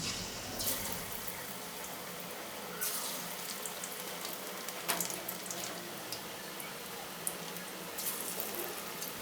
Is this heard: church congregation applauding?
no